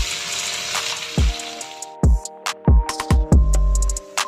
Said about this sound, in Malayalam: അതിലേക്ക് നമുക്ക് എടുത്തു വെച്ച സവാള ഉണ്ടല്ലോ അത് ചേർത്ത് കൊടുത്ത് ഗോൾഡൻ കളർ ആവുന്ന